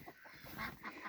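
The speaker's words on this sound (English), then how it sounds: "Oh, the ducks are saying hi." Ducks quacking on a snowy farm on the first day above freezing, a few loud, close honking calls coming in short bursts with no talking.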